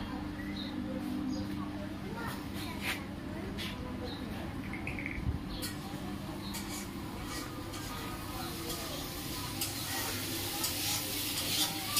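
Food cooking on a home stove in a large room, with a soft steady sizzle and occasional light stirring clicks under faint background chatter and bird chirps.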